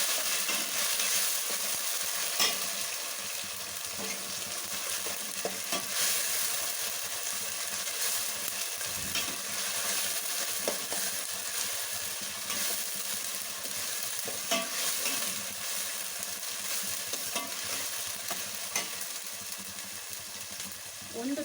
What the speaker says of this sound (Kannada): 1 ಟೀ ಸ್ಪೂನ್ ಶುಂಠಿ ಬೆಳ್ಳುಳ್ಳಿ ಪೇಸ್ಟ್ ಇದು ಹೀಗೆ ಚೆನ್ನಾಗಿ ಫ್ರೈ ಆಗುತ್ತೆ.